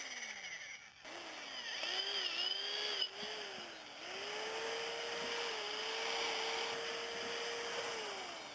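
Power drill whirring as its bit bores through a tree limb while a rope swing is installed, the steady motor tone rising and settling in pitch under load, with a sharp knock near the middle.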